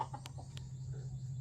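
Chickens cluck faintly nearby at midday feeding, a few soft clucks over a steady low hum, with no talking.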